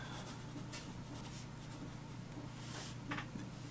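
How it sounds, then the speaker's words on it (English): A vintage Parker Duofold Senior fountain pen writes on paper, giving faint, close scratchy strokes in a quiet run with a couple of brief firmer scrapes over a low steady hum. "let's see how well this writes by comparison"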